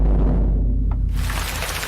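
Rain falls as a sound effect in a coffee radio ad, a steady, dense hiss of downpour with a low rumble beneath it, continuous and alone without talk.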